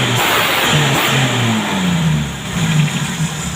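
A CNG-fueled car engine revved hard and held, a loud, close, continuous growl that rises and falls in pitch with the throttle.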